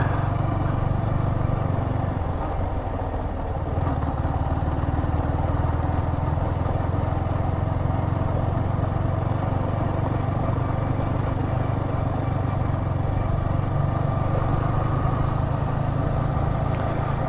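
A Kawasaki Z900 motorcycle engine runs steadily near the microphone during a Sunday ride in Hazaribagh, Jharkhand, with a constant low rumble and little change in revs.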